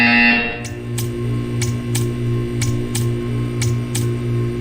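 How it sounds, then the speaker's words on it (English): In the Portal 2 video game, a short rhythmic buzzer pulses about twice per second over a steady low electrical hum, each burst sharp and brief, repeating evenly after an initial tonal chime fades out. "When you hear the buzzer, stare at the art."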